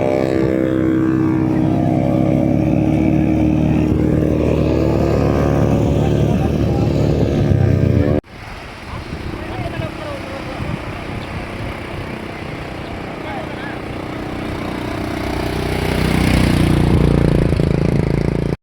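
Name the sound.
modified two-stroke motorcycle engine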